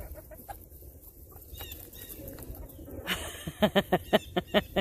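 Backyard chickens and a rooster, soft scratching and low clucks at first, then a louder run of rhythmic, evenly spaced clucking calls near the end.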